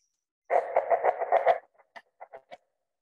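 Rooster crow imitated by jerking a string through a cup, a close rasping, squawky run of pulsing strokes followed by a few short separate chirps, alone against silence.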